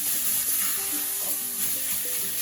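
Minced beef frying in a pan with no added fat, a steady broadband sizzle running unbroken throughout with faint low kitchen hum underneath, no voices.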